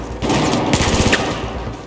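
A FAMAS rifle fires a rapid automatic burst in the Battlefield 4 campaign, a dense, loud stream of shots lasting most of two seconds with no talk.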